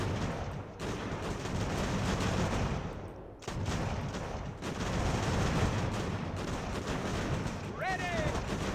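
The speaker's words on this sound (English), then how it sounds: "we got everybody shooting at somebody" Dense, continuous volleys of musket fire from massed infantry in Ultimate General: American Revolution form a crackling, rumbling barrage that briefly dips before resuming, with someone talking over the battle noise.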